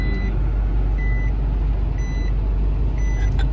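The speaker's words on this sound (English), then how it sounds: "it's traffic everywhere" Road traffic on a busy street: a loud, steady low rumble of engines with a truck's reversing beeps repeating about once a second, no talk.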